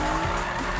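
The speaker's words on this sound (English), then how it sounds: "Drift it, it's more safer." A car drifts in the Need For Speed 2015 video game, its tires skidding in a loud, continuous screech over engine noise, brief and without speech.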